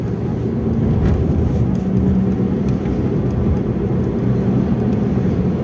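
A manual car cruising in fourth gear at about 40 km/h on a congested road, giving a steady, loud low engine and road drone that holds evenly throughout with no gear changes or voices.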